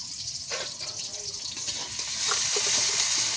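Oil heats in a pan before fish is fried, a soft steady hiss that swells into a louder, brighter sizzle partway through, with a few faint pops.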